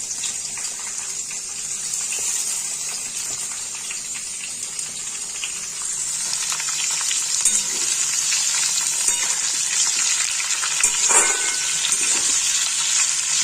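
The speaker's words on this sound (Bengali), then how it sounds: "তাই টমেটোটা একবারেই দিয়ে দেবো।" Chopped tomatoes sizzle in a pan with fried potatoes, a steady hissing crackle of frying, close and continuous, that grows slightly louder midway, with a few faint stirring clinks.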